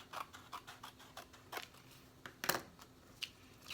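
Scissors snip along a paper banner for a scrapbook recipe book, a quiet series of short, close crisp cuts at an uneven pace, one sharper snip standing out near the end.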